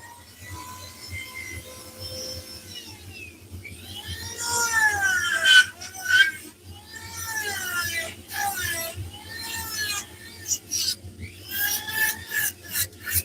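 A Dremel rotary tool carves wood with a rasping, grinding buzz whose pitch rises and falls as it bites in and eases off, heard close and continuous over a low background hum.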